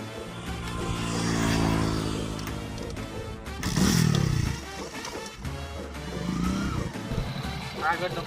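A motorcycle engine runs and revs on a rural road, rising and falling in bursts up close while people talk over it.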